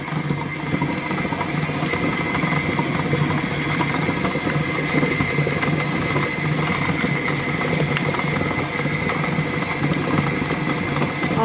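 An electric mixer whirs at a higher speed through cheesecake batter for a mango burnt Basque cheesecake, a constant close mechanical drone with a faint rattling texture that holds steady the whole time.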